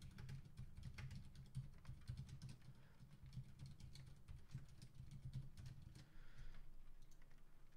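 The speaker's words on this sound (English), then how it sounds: "I'm going to type it again because apparently a keyboard is too much for me to control" Someone types on a computer keyboard in a continuous run of faint, quick key clicks lasting several seconds, with no one speaking.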